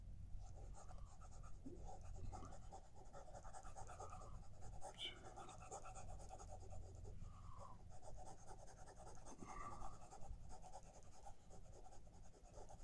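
An eraser rubs writing off a board in soft, scratchy strokes, faint and close, with a quiet voice in the background.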